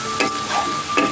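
Vegetables frying for a Bengali banana-stem curry with potato, onion and garlic, a steady close sizzle with a few louder bursts of spitting as the pan is stirred.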